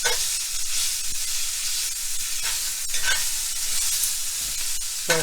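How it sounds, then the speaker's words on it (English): Beef par-cooks with garlic and ginger in a hot stir-fry pan, hissing loudly and constantly while being tossed and scraped with a utensil every second or so. "and then add the beef really quick because it's going to what we're doing is par cooking the beef."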